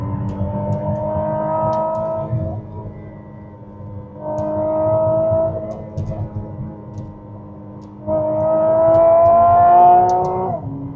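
A 2025 McLaren Artura Spider supercar drives hard on a winding road, its engine rising and falling in three loud revving surges with gear changes, close and continuous.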